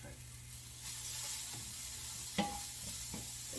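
Onions and garlic sizzle steadily in a pan for berbere potatoes while a utensil stirs them, with a few scrapes and a sharp clink against the pan over the constant frying hiss.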